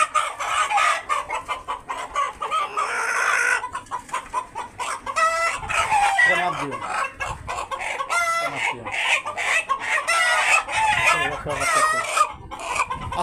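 Caged chickens on a poultry farm cluck and squawk in overlapping bursts, close and lively, with a rooster crowing among them and a voice speaking faintly underneath.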